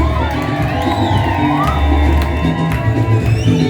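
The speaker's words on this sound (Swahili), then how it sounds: "Wanakuja wapi shangwe za harusi?" A wedding celebration crowd cheers and whoops continuously, a dense, loud wash of shouting voices with children's cries mixed in, close and unbroken throughout.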